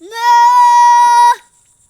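A child imitates a cow with one long, steady, drawn-out moo, loud and close, followed by silence.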